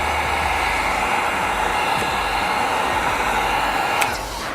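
Heat gun blowing a steady, loud rushing roar while heat-sealing chrome delete vinyl wrap on the front grille of a 2020-2025 Volvo XC90, with a faint tick near the end.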